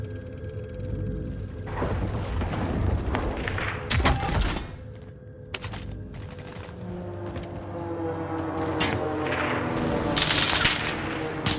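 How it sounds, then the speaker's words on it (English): Hostile gunfire in a Call of Duty match crackles through a busy game mix, with sharp shots, a couple of heavy thuds and sustained bursts over a rumbling ambient bed. "Receiving hostile fire."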